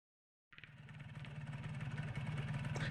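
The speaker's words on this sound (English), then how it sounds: "This is about as far as the tugboat can go." A tugboat engine in the video game Kentucky Route Zero starts abruptly after a short silence with a steady, low drone and rumbles on with a rhythmic chug, growing slightly louder.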